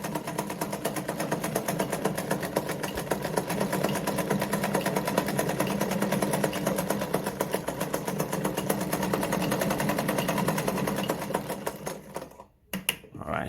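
A Singer model 237 sewing machine stitches a maximum-width zigzag, a fast, close, rhythmic mechanical clatter running steadily before it slows and stops near the end.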